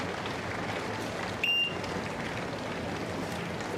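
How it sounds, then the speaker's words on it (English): Steady applause from spectators along the course at Henley Royal Regatta during a Princess Royal single sculls race, a broad continuous wash of clapping with a brief electronic beep partway through. "plenty of applause for both athletes"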